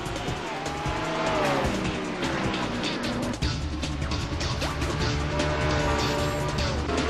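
Race cars roar off at the start of the first race at Baxley, a dense, loud wall of engine noise with tire squeal and skidding as the pack charges away, sustained throughout.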